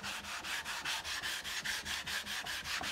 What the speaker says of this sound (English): grab a larger sanding block of 220 and just go over this